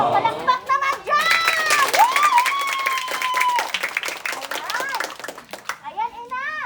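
At a birthday trunk surprise, a small group claps briefly around excited, high-pitched children's voices, with the clapping mostly buried under the chatter and cheering.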